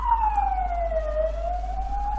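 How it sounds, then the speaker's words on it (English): An ambulance siren wails outside, a single loud sweeping tone that dips and then rises again over a low steady hum, heard alone without talk. "sorry for the ambulance sound"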